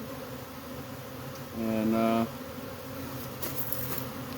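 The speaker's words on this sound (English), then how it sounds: "The bees are probably going to move into it" Honeybees drone around a hive built inside a cable box, a steady low hum that swells into a louder, tonal buzz for a moment before settling back, with a brief spoken word.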